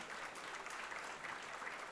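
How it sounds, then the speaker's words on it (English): Steady broadband clapping from an audience at a CEO walk-and-talk event, sustained and fairly even throughout, with no voices over it. "So let's have that applause for him."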